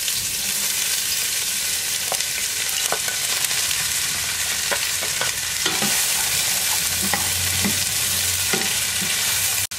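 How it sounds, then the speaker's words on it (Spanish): Green beans fry in oil in a clay pot, a loud, steady sizzle running throughout with scattered sharp crackles and pops, close and without talk. "Mientras se fríen los ejotes"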